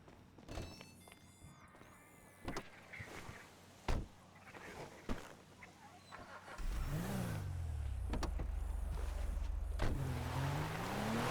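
Car engine in the video game GTA 5, heading toward Paleto Bay: a few thunks and door-like clicks, then from midway a loud, steady engine drone that rises and swells as the car pulls away, with no talking.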